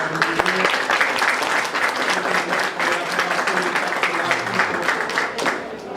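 An audience applauds at a museum family day event, a steady wash of clapping with a few voices mixed in, holding at an even loudness until it fades slightly at the end.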